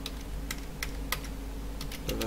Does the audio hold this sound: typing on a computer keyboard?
yes